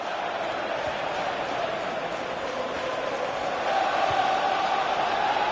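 Steady roar of a stadium crowd cheering during a Liverpool versus Manchester City Premier League match in FIFA 15, a continuous broadband wash that swells slightly louder toward the end, with no one speaking.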